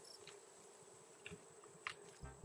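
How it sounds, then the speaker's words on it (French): Bees buzz faintly in the survival video game Raft, with a few soft intermittent buzzes and clicks over a quiet background. "Ah, ça c'est des abeilles par contre."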